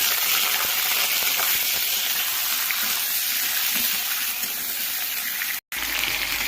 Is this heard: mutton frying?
yes